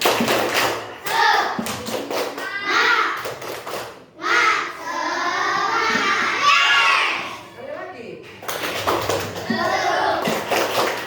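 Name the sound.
children doing the 'tepuk semangat' clapping ice-breaker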